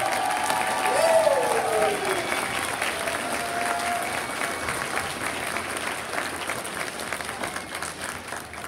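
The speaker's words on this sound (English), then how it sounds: "let's do a big bow as we get another big round of applause." Families in an elementary school audience applaud a kindergarten holiday concert in a steady, sustained round of clapping, with a brief voice heard over it near the start.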